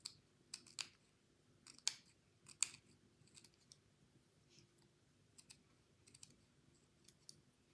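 Scissors snip through paper for a craft album page in a series of quiet, sharp cuts, with several distinct snips spaced irregularly and faint clicks between them, no talk.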